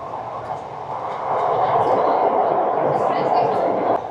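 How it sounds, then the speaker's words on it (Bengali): A Kolkata metro train on the new Sealdah–Howrah Green Line hums and rumbles steadily from inside the carriage as it heads toward Esplanade, swelling louder midway, with muffled voices underneath. "তো ট্রেন আমাদের ঢুকবে আর কিছুক্ষণ পরে এসপ্ল্যানেড স্টেশন।"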